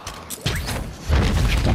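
In a Call of Duty Warzone match, a thrown grenade clatters and then a muffled blast booms, followed by a rumbling roar of the explosion, fairly close and moderately loud.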